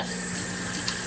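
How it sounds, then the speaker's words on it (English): Warm water pours steadily into a mixing bowl for pizza dough, a brief continuous splashing trickle heard close. "add some warm water"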